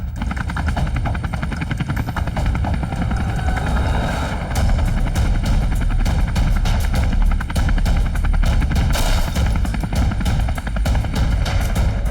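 A helicopter flies in an animated cartoon, its rotor chopping in a fast rhythmic thud under a loud engine whine that swells midway, close and continuous with no speech.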